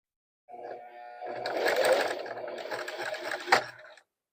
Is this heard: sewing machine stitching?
yes